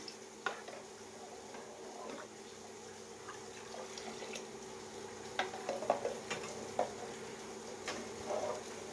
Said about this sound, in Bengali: আমরা দুধটাকে এইভাবে হালকা নাড়ার উপরে রাখবো।